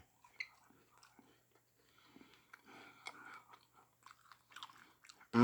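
Close, soft crunching and chewing of a macaron with a spongy shell and cake-flavoured filling, with quiet mouth sounds and a few sharper bites scattered through the stretch.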